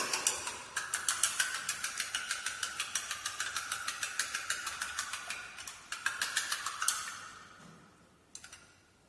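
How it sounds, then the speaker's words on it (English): Egg white being whisked by hand for a French soup, a fast, even run of crisp clicking strokes that pauses briefly near the end and then stops. "Just whisk the egg white."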